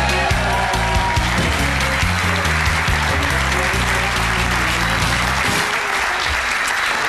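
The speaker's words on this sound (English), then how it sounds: "a huge round of applause for the one, the only, Mr. Philip Patston" Audience applause for comedian Philip Patston, a broad, steady wash of clapping from a comedy crowd, loud and sustained with music or low tones underneath that cut out near the end.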